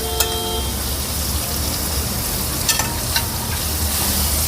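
Onion frying in a pan with chopped ginger, garlic and curry leaves, a steady loud sizzle with occasional crackles and pops throughout.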